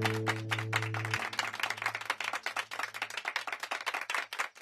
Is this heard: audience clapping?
yes